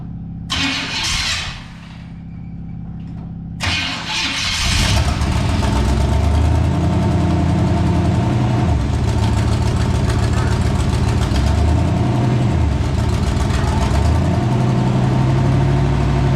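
A 1973 Chevy Cheyenne Super C10 with a factory 454 big block, revived from a seized state, cranks briefly, then catches and settles into a loud, steady, rumbling idle that carries on to the end.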